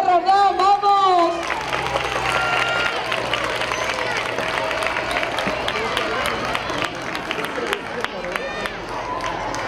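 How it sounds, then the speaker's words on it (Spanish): A school Constitution Day celebration crowd applauds loudly and continuously, with children's cheers and shouts mixed in, after a voice speaks over a loudspeaker at the start. "vamos a darle un fuerte aplauso a nuestra concejala de educación"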